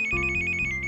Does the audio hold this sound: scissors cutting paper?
no